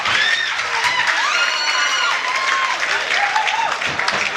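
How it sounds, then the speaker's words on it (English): An arena crowd at the Ultimate Legends IX fight event applauds and cheers for both fighters after the main event, loud and continuous, with whoops and shouts rising above the clapping. "Give a round of applause to both fighters."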